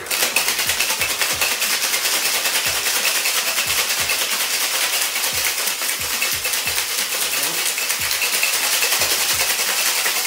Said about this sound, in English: It's a shaking drink, so we're gonna go for a hard shake.